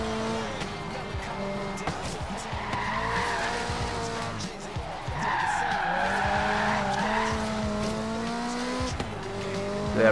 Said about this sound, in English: We've got a 1992 Toyota Celica,